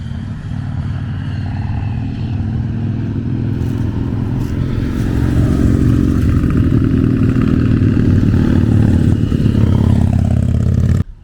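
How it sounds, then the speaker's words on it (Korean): Motorcycles pass along a road near meadows in Neftenbach, Switzerland, their engines droning loudly and building steadily before cutting off abruptly at the end. "자전거 타고 오토바이 타는 사람들이 엄청나게 많습니다."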